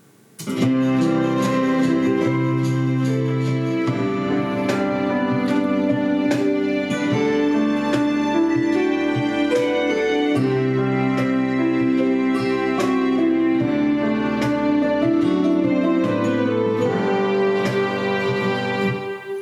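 Plucked nylon-string guitar notes woven into a full, steady band mix with sustained backing instruments, continuous and fairly loud throughout.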